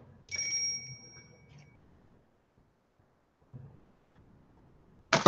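A telephone rings with a bright two-tone electronic trill that lasts about a second, then soft rustling follows, and a sharp loud burst comes at the end.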